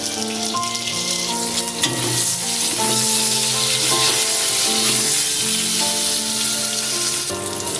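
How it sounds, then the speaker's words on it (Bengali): Pointed gourd pieces fry in hot oil until reddish-brown, giving a steady, close sizzle with occasional stirring scrapes under a layer of background music. "পটলটা লাল করে ভাজা হয়ে গেছে"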